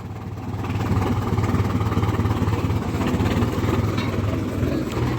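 A tractor engine runs at a steady, loud idle-like drone, close by and continuous, with no talk over it.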